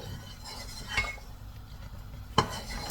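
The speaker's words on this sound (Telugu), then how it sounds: "స్టవ్ చిన్న చేసేసి పొంగు రాకుండా మనం కలుపుకుందాము కొంచెం" Boiling milk stirred in a pot on a stove for sheer kurma, a soft, steady background hiss with a couple of light metallic clinks of the spoon against the pot.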